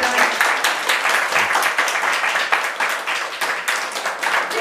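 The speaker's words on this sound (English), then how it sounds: "let's all give Tyler a round of applause" Church congregation gives a round of applause for Tyler on his last Sunday, a short burst of close, lively hand clapping with a few louder individual claps.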